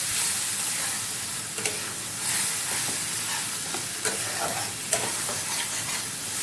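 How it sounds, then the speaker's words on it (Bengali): Mushroom masala sizzles in a pan after water is added while a spoon stirs it, giving a continuous frying hiss broken by a few sharp scraping knocks. "এবার এগুলোকে 1 মিনিট ভালোভাবে আবারও কষিয়ে নেব।"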